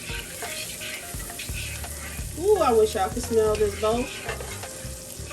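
Garlic stirred and sizzling in a pan of melted butter while cooking grits, a steady close frying hiss with spoon scraping, partly under a voice talking.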